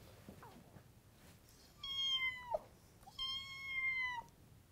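A cat meows twice, each call a clear rising-then-falling cry rich in harmonics, close and fairly loud against a quiet room background with no talk.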